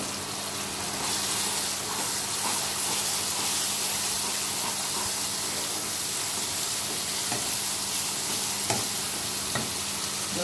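Tomato paste frying with pointed gourd (potol) and potato in a pan, a steady close sizzle and hiss with occasional stirring scrapes running throughout, no talking.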